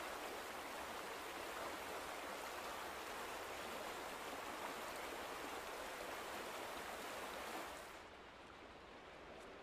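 Water flows in a steady, loud rush in the video game The Vanishing of Ethan Carter. The sound is dense and constant, then drops to a softer, duller wash for the last couple of seconds.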